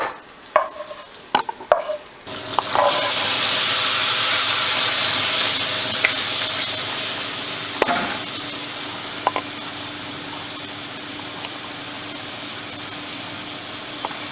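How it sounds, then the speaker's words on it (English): Cauliflower cooking in a pan: a few clacks and knocks, then a sudden loud sizzle and hiss of frying that stays steady and slowly eases, with occasional stirring scrapes. "start cooking the cauliflower"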